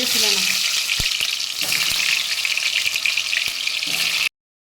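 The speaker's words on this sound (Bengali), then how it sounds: "দেখো আমি আলুগুলো লাল লাল করে ভেজে নিয়েছি" Potatoes frying in hot oil give a loud, continuous crackling sizzle up close, with occasional sharp pops and stirring clinks, ending abruptly in silence.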